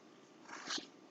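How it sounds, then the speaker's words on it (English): A pet cat named Whiskers gives a single faint, short vocal sound, a soft meow-like cry in a quiet room, with no talking. "Whiskers, you're distracting me, kitty cat."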